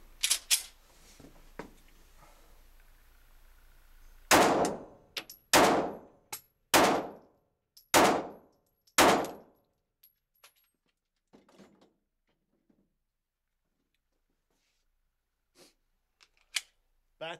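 A Smith & Wesson Shield pistol fired at a shooting range, a quick string of five or six loud, sharp reports with fast decays, a couple of earlier isolated shots, and faint distant shots afterward.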